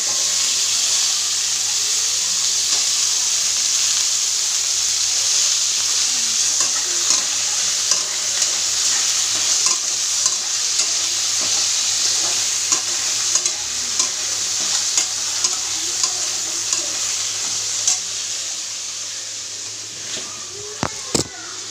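Potato and eggplant fry in a large wok with a steady, close sizzling hiss, while a spatula stirs them with repeated scraping clicks that grow sharper toward the end.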